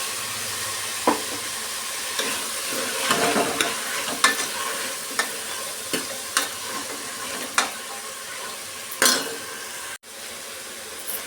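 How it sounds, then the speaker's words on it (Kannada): Fresh avarekai beans frying in oil, a steady sizzle with repeated sharp spatula scrapes and clinks against the pan at irregular intervals, close, with no voices. "ಒಂದು ನಿಮಿಷ ಆಯಿಲಲ್ಲಿ ಈ ಥರ ಫ್ರೈ ಮಾಡಿಕೊಂಡು"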